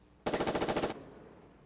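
A rapid burst of automatic fire from an M4A1 rifle with an M203 grenade launcher in a video game, about a dozen evenly spaced loud shots over under a second, then a short fading tail.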